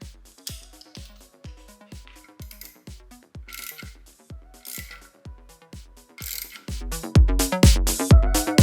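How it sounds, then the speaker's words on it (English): A ratchet fitted with a 3/4 socket clicks in a steady rhythm while tightening the wheels of a motorcycle dolly, the clicks growing faster and louder at the end. "I have my 3/4 here socket that I'm gonna put on my ratchet here"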